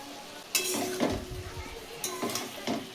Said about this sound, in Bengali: দেওয়ার পর আমি কিছুটা একটু নাড়াচাড়া করে নিলাম।